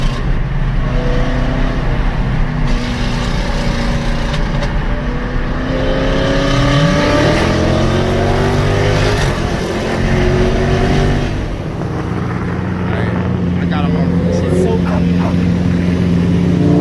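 A Mercedes-AMG GLE and a twin-turbo Lamborghini revving against each other outdoors, loud sustained engine roar with rising and falling rev sweeps and throttle blips, close to the cars, with people talking and shouting underneath.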